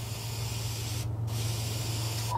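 Steady airbrush hiss spraying green paint onto a blank crankbait fishing lure, close and continuous with a brief pause in the middle, no talk.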